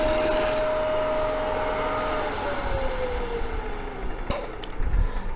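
A skew chisel cuts wood on a turning lathe, producing a steady, close hiss and whir with a faint humming tone that slowly drifts lower. A few sharper knocks come near the end, and no one speaks.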